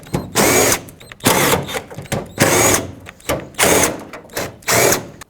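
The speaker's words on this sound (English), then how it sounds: "I need to take off the 8 T30 screws or bolts that hold this piece in" A power driver backs T30 screws out of the tailgate molding on a 2008-2010 Ford F-250 in six short, loud, close whirring bursts separated by brief pauses.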